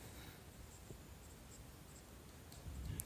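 A pen scratches out a maths solution on paper, faint and close, with soft continuous strokes and a slightly louder scrape near the end; no one talks.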